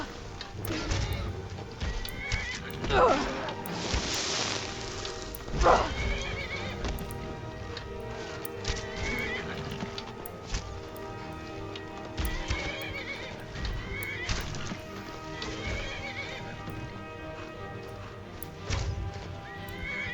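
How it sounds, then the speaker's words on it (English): A horse in the Skyrim video game neighs and whinnies loudly in several shrill bursts, mixed with clip-clopping hooves and game sounds. "Oh man, I hit my own horse."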